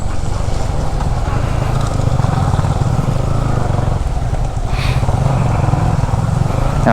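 Motorcycle ridden along a foggy, rainy hill road with cornering near Mullayanagiri peak, Chikkamagaluru; a loud, continuous engine drone close to the rider, mixed with steady wind rush throughout.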